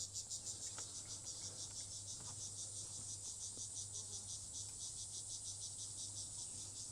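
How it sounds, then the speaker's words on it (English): Crickets at a safari lodge in Africa chirp in a steady, dense high-pitched trill that runs unbroken throughout, with a low constant hum underneath and a few faint soft knocks. "Yeah, it must be crickets."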